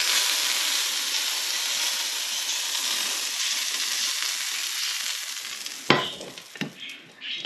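Beyond Breakfast Sausage links sizzle in a frying pan with a steady, hissing fry for several seconds, then sharp clatters and knocks of handling cut through near the end.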